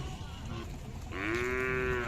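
Khillar cattle moo at a village fair where bulls, cows and bullocks are traded. One loud, drawn-out moo rises over a busy, noisy crowd background.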